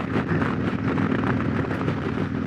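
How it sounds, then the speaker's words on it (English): Strong wind roars across the microphone while riding a 2020 Harley-Davidson Road Glide Special on a cold day, a loud, continuous buffeting rush with no break and no voices. "It's really windy out here."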